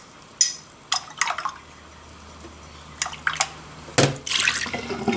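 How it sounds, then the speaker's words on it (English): Paintbrush bristles scrubbed against the bottom of a water container, giving several short splashy swishes and drips in irregular bursts, close and clear against a quiet background. "I'm actually rubbing the bristles of the brush on the bottom of the container, which assists in getting the bristles clean"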